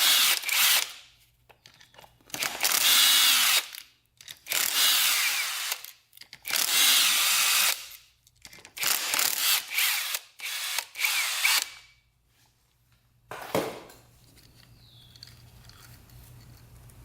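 A power tool works on the clutch of a Kawasaki dirt bike in a series of five loud whirring bursts, each a second or two long with short pauses between. A single sharp metallic clank follows, then quiet hum.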